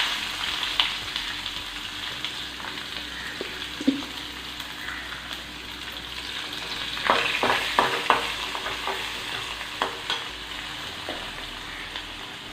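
Chopped onion sizzles in hot oil for a kuzhambu, with a spoon scraping and stirring the pan in several distinct bursts over a steady frying hiss, close and moderately loud.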